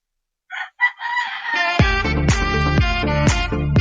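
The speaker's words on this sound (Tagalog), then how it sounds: "Diba may narinig kayong mga manok?" A rooster crows repeatedly, loud and close, after a few short clucks and calls from chickens; no voices.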